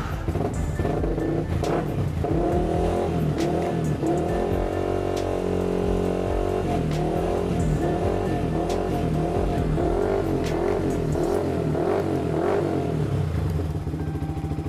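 A used motorcycle with about 63,000 km on it and an aftermarket racing exhaust idles close by, a steady rumbling putter with occasional small revs and clatter, continuing throughout with no talk.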